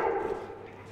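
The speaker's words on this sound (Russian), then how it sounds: "Лабрадор – гранд персона Жескар Десте или просто Гриня" A Labrador customs sniffer dog at an international airport customs post gives a brief, close, fairly loud whining bark with a sustained tonal edge, alone and with no talk over it.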